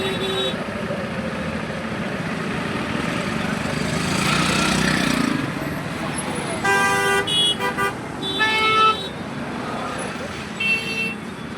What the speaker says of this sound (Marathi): आता इथे बघा ट्रॅफिक बघा किती आहे